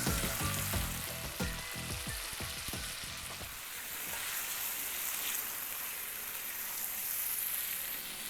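Brain pieces drop into spiced masala frying in oil, setting off a loud, steady sizzle, with a few sharp stirring clatters at the start before the hiss settles into a continuous crackle.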